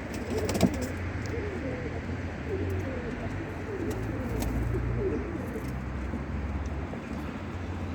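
Soft, repeated coos of tumbler pigeons close by, with faint distant traffic rumbling underneath and an occasional brief rustle.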